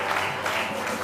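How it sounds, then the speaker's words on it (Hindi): An audience claps steadily and densely in a studio setting, a full burst of applause throughout with a faint murmur of crowd beneath. "बहुत सारी तालियां दोनों के लिए।"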